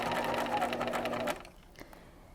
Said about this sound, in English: we're going to stitch all the way around the neckline like this